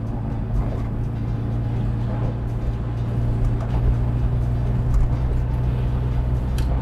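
A Rover Mini 1.3i, a 1965-style classic modified for performance, cruises in high gear at low revs, its engine a steady low drone with road rumble, continuous and even throughout, with no voices.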